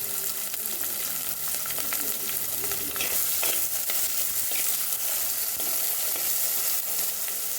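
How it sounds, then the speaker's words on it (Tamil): Onions sautéing in oil with mustard seeds and curry leaves for a mixed-vegetable sambar, a steady close sizzle with frequent scraping stirs, carrying on without a break. "வெங்காயம் நல்லா வதங்கி வரட்டும்."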